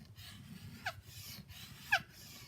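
A rasp scrapes the back of a green wood bow stave being quick-dried: two short, soft scraping strokes about a second apart, close but faint over quiet background rumble.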